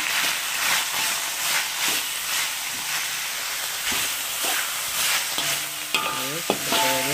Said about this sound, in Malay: Okey, kita goreng.